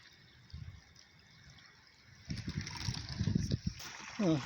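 Faint trickling and splashing water from a pump pipe running through a culvert under a driveway, growing a little stronger partway through, with low background noise and a brief voice near the end.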